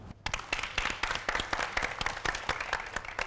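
An audience applauds to welcome actress Dương Cẩm Linh, with dense, continuous clapping at moderate distance that starts abruptly and holds steady.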